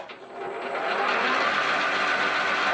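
A 1949 South Bend Heavy 10 metal lathe running fast with all gears engaged, a loud steady whirring and mechanical drone that swells up within the first second and holds.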